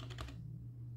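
A few quick keystrokes on a computer keyboard while typing a web address into a browser, soft rapid clicks up close, then a steady low hum.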